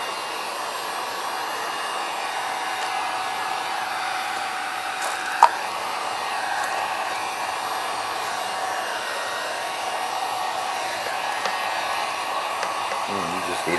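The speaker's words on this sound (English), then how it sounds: "This is a Wagner heat gun." A Wagner heat gun runs steadily while shrinking plastic wrap around a freeze-dried sandwich, a constant close rushing hiss that holds for the full stretch, with a couple of small clicks and handling knocks.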